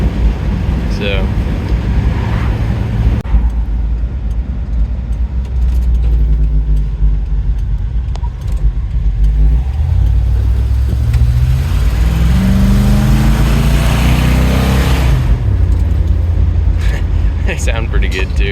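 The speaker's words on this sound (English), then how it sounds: "there's just something about these old carbureted motors. They just run." An old carbureted 1977 Ford F250 engine idles close by with a deep, steady rumble, and partway through it revs up and settles back down.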